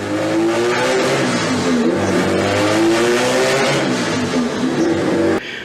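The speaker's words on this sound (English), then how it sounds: "K24 engine. This is a Honda motor." A Honda K24 four-cylinder engine, fitted as a swap into an Alfa Romeo Giulia, revs loudly and close up, its pitch climbing and falling through several pulls before cutting off abruptly at the end.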